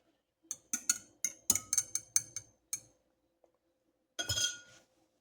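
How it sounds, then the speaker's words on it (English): A spoon stirs scorpion ketchup with dissolved palm sugar in a container, giving about nine quick, bright clinks in an uneven rhythm, then a brief pause and a short cluster of scraping clinks, close and alone. "Give it a stir."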